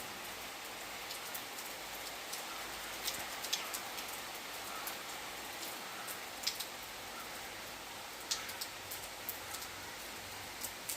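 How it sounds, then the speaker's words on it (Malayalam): Steady rain patters down continuously, with occasional sharper drops hitting a surface nearby; no voices. "നല്ല മഴയുണ്ട് കേട്ടോ, അത്യാവശ്യം നല്ല മഴയുണ്ട്"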